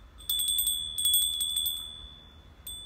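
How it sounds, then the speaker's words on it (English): A small altar bell rings in rapid shaken bursts of bright, high, sustained tones. A final short ring comes after a pause, and the bell is close and clear with no talk. "my baby bell"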